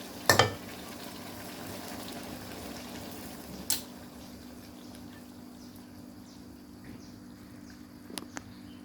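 Chilli, long beans and pork belly stir-fried in sauce in a pan, a low steady sizzle with a couple of sharp utensil clacks near the start and a few light scrapes later.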